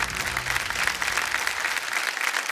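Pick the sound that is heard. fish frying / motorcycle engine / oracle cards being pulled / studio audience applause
studio audience applause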